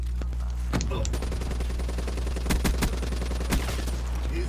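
Automatic weapons fire in a Black Ops 3 multiplayer match, with rapid bursts of shots cracking loudly in several clusters over steady game background noise.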